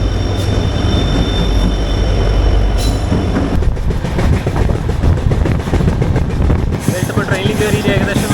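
Passenger train running on the line from Nagaland toward West Bengal, a loud continuous rumble of wheels and carriages heard from inside, with rattling clatter and brief squeals, and voices talking underneath.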